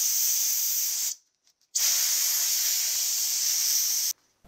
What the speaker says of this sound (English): I then blow compressed air through it